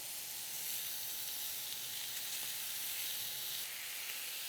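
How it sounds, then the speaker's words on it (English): Pineapple sizzles on a grill while being basted with sauce, giving a steady, soft hiss and crackle heard close and alone. "I'm going to start basting the pineapple."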